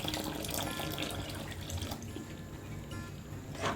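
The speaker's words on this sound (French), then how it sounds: "je vais ajouter juste un peu d'eau encore pour permettre en fait à notre pâte de bien cuire" Water poured into a pot of cooking plantain and peanut paste porridge, a steady continuous pouring and splashing that stays fairly even throughout, close by with no talk.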